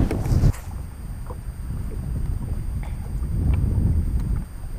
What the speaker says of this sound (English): I definitely hope the wind calms down before tomorrow